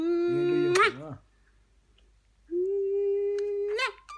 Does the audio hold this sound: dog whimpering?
yes